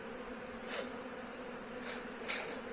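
Honeybees at the fifth frame of a hive during stimulative syrup feeding, a dense continuous buzz close by with slight swells, no speech.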